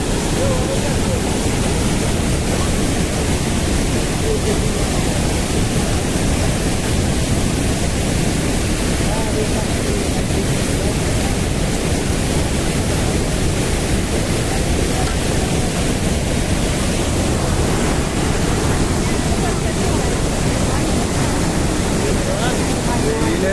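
Steady, loud rushing of a waterfall fills the whole clip, a dense roar close by with no pauses.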